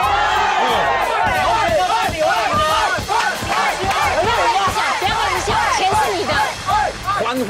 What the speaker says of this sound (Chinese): 欢呼，他们在欢呼